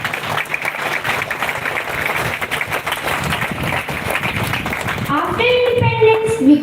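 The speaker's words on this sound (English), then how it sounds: "A great round of applause" An audience at an Independence Day celebration claps, a dense patter of applause under a voice that fades out near the end, when music or singing comes in.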